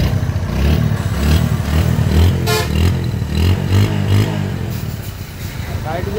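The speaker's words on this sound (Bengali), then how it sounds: "তো সাউন্ড ইঞ্জিনের সাউন্ডও দেখেন।" A second-hand Bajaj Discover motorcycle in fresh condition runs with a steady, close engine drone that swells slightly in places, while someone talks over it throughout.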